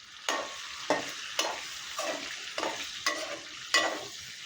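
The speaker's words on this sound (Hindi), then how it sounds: "अंडों को हमें फ्राई कर लेना है" Boiled eggs frying in hot oil with turmeric and salt, a steady sizzle broken by a series of sharp stirring scrapes and spatters, close and alone.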